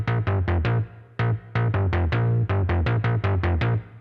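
PolyBrute analog FM synth bass layer playing a rhythmic sequence of short, punchy low notes in quick groups with brief gaps, loud and alone with no talking.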